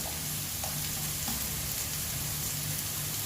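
Fried rice with shrimp paste chili sauce, egg and carrot cooks in a pan, giving an even, continuous frying sizzle with a soft rain-like patter and no voices.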